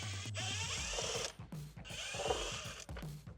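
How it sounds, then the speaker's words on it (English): Power screwdriver backing out screws from the steering column shroud of a Nissan Y61 Patrol, short whirring bursts with pauses between, close and fairly quiet, no speech. "Now you need to remove the 3 screws in the steering wheel column shroud."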